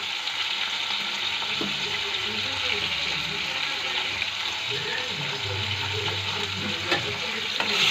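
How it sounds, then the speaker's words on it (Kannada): Bitter gourd stir-fry with salt and turmeric being stirred in a pan, a continuous hiss of sizzling with soft scraping and occasional clicks, close and steady throughout. "ಉಪ್ಪು ಅರಿಶಿನ ಪುಡಿ ಹಾಕಿಂದ ಮತ್ತೆ ಹಂಗೆ ಕೈ ಆಡಿಸ್ತೇನೆ ರೀ"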